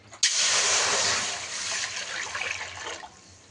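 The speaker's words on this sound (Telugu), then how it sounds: "నేను లీటర్ వాటర్ వేసుకున్నా." A litre of water pours into a heated pot on the stove, a sudden loud gush that begins sharply and then tapers into trickling and dribbling.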